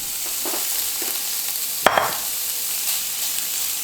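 Tofu tossed into a lightly oiled pan with a sharp clatter and brief hiss near the middle, over a steady low sizzle of frying and faint stirring noises.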